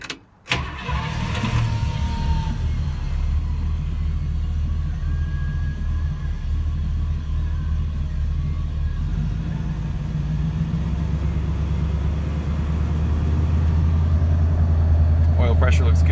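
A 1966 Buick Wildcat engine, fresh from an oil change, turns over after a brief click and settles into a steady, close, rumbling idle that grows slightly louder and deeper near the end.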